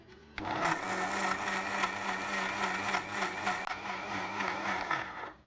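Kitchen blender whirring loudly and steadily as it mixes an apple and date milkshake with ice cream, running continuously for several seconds with a slight pitch shift midway before cutting off.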